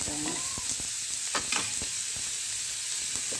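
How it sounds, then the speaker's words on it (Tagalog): Meat sizzles in a pan with onion, a steady frying hiss under repeated stirring clinks and scrapes, close and continuous without speech. "Gigisahin na natin yung karne natin."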